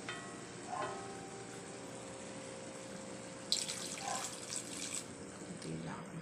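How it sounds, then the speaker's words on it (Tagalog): A small amount of tap water added while cooking yellow wine chicken, a brief running stream partway through over quiet kitchen background noise, with a faint voice nearby. "Tapos mag-add tayo muna ng tubig. Kunting tubig lang."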